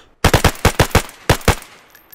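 Rapid gunfire in the video game DayZ: a burst of six sharp shots in quick rhythm, a short pause, then two more loud close shots, with no talk.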